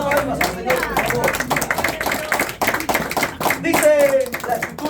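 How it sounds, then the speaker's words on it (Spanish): A church congregation claps along during a Spanish-language sermon, a dense run of steady hand claps mixed with a speaking voice over it. "Recuerda palmas al Señor, por favor"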